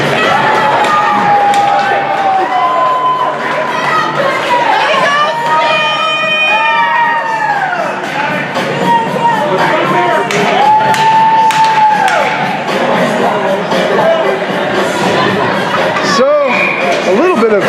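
After a Lions goal, Fairbanks fans at a Thunder game let out a loud, sustained crowd roar, with rising and falling horn-like wails cutting through and a voice talking over the din.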